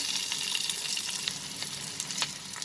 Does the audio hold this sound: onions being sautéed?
yes